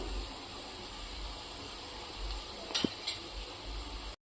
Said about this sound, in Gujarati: એટલે આપણે મીડિયમ ગેસ ઉપર જ આ રીતે ગોટા તરીશું